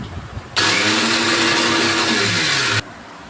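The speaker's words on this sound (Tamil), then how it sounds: "கொரப்பாக அரைச்சிக்கலாம்." A kitchen mixer grinder whirs loudly for about two seconds, coarsely grinding roasted garlic and dried chillies for pepper rasam, starting abruptly and cutting off sharply with a steady high whine and slight pitch drop.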